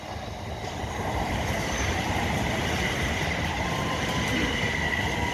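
A train pulls into Etchingham Station beside a level crossing, a steady rolling rumble of wheels and carriages that holds loud and close for the whole stretch with no talking.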